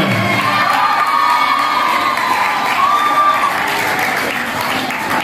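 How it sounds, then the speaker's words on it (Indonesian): Children at an Islamic education centre in Samarinda, East Kalimantan, clap and cheer together, a steady roar of shouts and applause, loud and continuous throughout. "Tepuk tangan dulu untuk kita semua."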